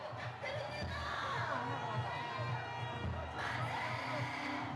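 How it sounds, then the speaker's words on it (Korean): Crowds of supporters cheer and shout outside the presidential residence in Hannam-dong, Seoul, a dense roar of voices with rising whoops and scattered calls. "윤 대통령은 지지자들의 환호 속에 한남동 관저로 돌아왔습니다"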